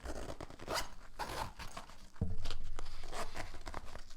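A zipper with paracord pulls on a Maxpedition Fatty pocket organizer is drawn open in a few quick, close rasping strokes, then one longer, steady pull.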